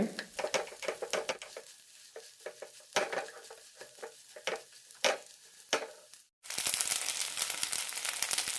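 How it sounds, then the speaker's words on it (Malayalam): Upma made from idli/dosa batter being stir-roasted in a pan on medium flame, with a spoon scraping and clinking against the metal in irregular strokes, then a sudden burst of loud steady sizzling near the end. "മീഡിയം ഫ്ലെയിമിലിട്ടാണ് ഇപ്പോൾ ഉലർത്തിയെടുക്കുന്നത്"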